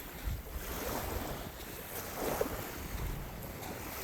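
Surf and wind on a beach where arrowheads are hunted, a steady rushing wash with gusting microphone wind noise throughout and no voices.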